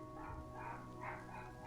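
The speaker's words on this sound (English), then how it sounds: "There's a lot of barking." A dog barks repeatedly in a visual novel game, several evenly spaced yips and bow-wows over a steady low background hum.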